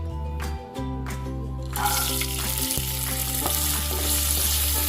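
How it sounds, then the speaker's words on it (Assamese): Green peas dropped into hot oil in a pan sizzle and crackle loudly, the frying growing busier and brighter partway through while a spoon stirs and scrapes at intervals. "মই এই মটৰ মাহখিনি ভাজি ল'ম।"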